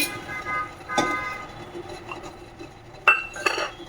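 A metal kadai set down on a home gas stove while making chira (poha) halwa, giving a sharp clank near the start, with faint clatters and a couple of louder metallic knocks toward the end in a quiet kitchen.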